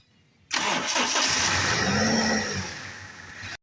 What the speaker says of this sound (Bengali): চলুন আমরা একটু স্টার্ট করে ইঞ্জিনের সাউন্ড কন্ডিশন শোনানোর চেষ্টা করি